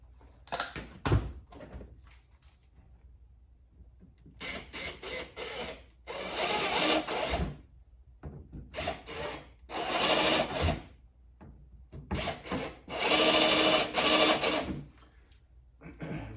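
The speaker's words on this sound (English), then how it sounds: "I'm going to run a drill bit through here just to mark my holes one more time" A drill whines through the inner tailgate panel of a Honda CR-V in repeated bursts of a few seconds each, with quiet gaps and light knocks between runs.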